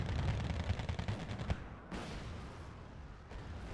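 Battlefield units open fire in Wargame: Red Dragon, a dense, continuous crackle of distant gunfire and rumbling explosions, faint and steady, with no talk over it.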